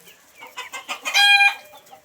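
Chickens on a poultry farm, including young local desi birds raised from an incubator, cluck in a quick irregular series that builds to a louder sustained call, close by with no talk.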